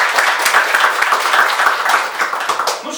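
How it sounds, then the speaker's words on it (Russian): Concert audience at a children's arts school claps steadily through the whole stretch, a loud, even patter of many hands with no break. "Аплодируем"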